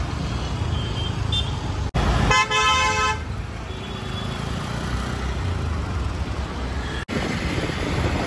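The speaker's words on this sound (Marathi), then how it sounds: "भरपूर ट्रॅफिक आहे." A jammed road toward Jogeshwari link road rumbles with idling cars and trucks, and one clear horn toot stands out near the start over the continuous nearby traffic drone.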